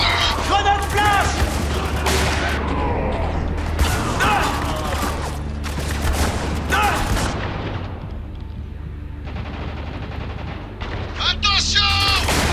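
Gunfire in the shooter game Spec Ops: The Line, with loud bursts of rifle shots and heavy booms coming in clusters over a steady low rumble, while voices shout orders between volleys.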